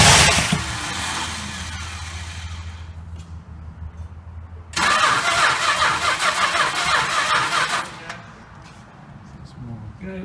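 A 1968 Chrysler 300 with a 440 TNT engine cranks on the starter, catches and roars loudly for several seconds, then drops back to cranking and a quieter uneven run, close up.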